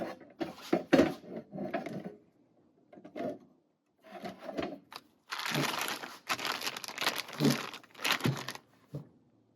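Plastic packaging around an Astro Tools Flex Head Nano wrench is opened close up, with bursts of crinkling, tearing and rustling separated by short quiet gaps, the busiest stretch coming near the end.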